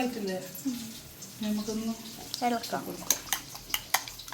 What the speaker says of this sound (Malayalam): നന്നായിട്ട് ഇളക്കി കൊടുക്കണം കേട്ടോ എന്നാലേ ഉപ്പും ചെറിയുള്ളിയൊക്കെ അങ്ങോട്ടും ഇങ്ങോട്ട് മിക്സ് ആവുള്ളൂ